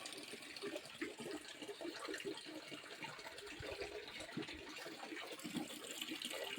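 Natural water flows at the source of the Son river, a steady, faint rushing and gurgling with no one talking.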